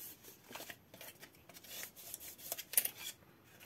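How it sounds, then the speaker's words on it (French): A paper pop-up card is creased along a diagonal fold, giving soft rustling and scraping strokes close by, a series of short rubs and crinkles without any voice. "Et je viens faire mon pli de diagonale."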